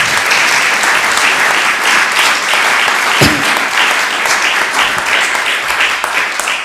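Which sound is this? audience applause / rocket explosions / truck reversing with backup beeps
audience applause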